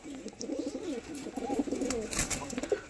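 Chotiyal Andhra and Madras fancy pigeons coo softly at close range, low burbling calls repeating over a faint background.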